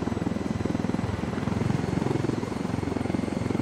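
A helicopter in the Ghost Recon Wildlands video game flies steadily, its rotor producing a loud, continuous rhythmic chop with a droning engine underneath, unbroken by talk.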